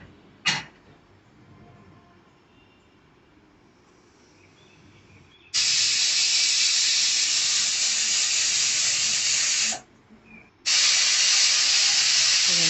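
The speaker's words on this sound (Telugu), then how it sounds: "టూ విజిల్స్ వచ్చే వరకు" A pressure cooker of chicken curry lets out two long, loud, hissing steam whistles close by, with a short gap between them, after a quiet stretch of faint kitchen noise.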